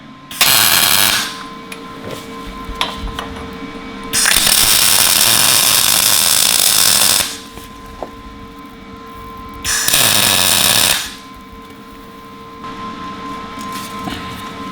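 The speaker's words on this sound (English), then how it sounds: "So we're welding a nut." Welding a nut onto a stripped axle hanger bolt on a 16HP five-speed racing kart: three loud, sustained bursts of harsh buzzing arc noise, each lasting a couple of seconds, separated by quieter shop ambience.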